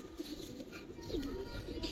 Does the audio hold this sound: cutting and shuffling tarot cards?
no